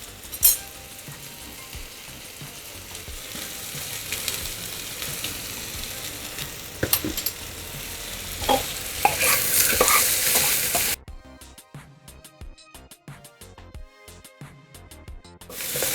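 Curry leaves and asafoetida crackle and sizzle in hot oil while a spoon stirs and scrapes the pan, steady frying with sharp spatters, then a quieter stretch of clinking stirring near the end.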